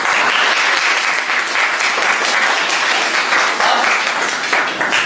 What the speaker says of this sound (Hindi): यहाँ तालियां आपने बजाई हैं